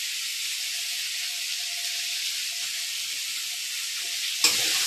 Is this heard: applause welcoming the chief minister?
no